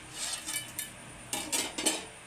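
Metal spoon scraping and clinking against a pot while chicken biryani with melted ghee is stirred from the bottom, a few quick irregular scrapes and clatters, close and fairly loud with no talking.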